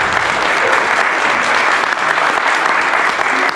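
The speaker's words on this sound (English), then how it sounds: "let's give a nice round of applause" Audience applauding former students at a music school's tenth anniversary event, a dense, steady round of clapping filling the room, sustained without talk.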